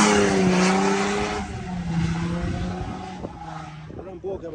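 A Volkswagen Amarok V6 accelerates hard with a rising, loud engine roar and tire noise that then settles and fades slightly, while people talk over it.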